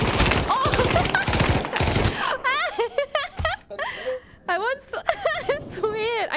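Gunfire in the VR shooter game Pavlov comes as dense bursts at first, and a man then yelps and gasps in reaction as the shots stop.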